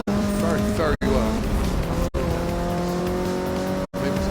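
A Mazda race car in the Forza 6 racing game roars at high revs with shifting engine pitch and brief gear-change dips, while someone talks over the engine.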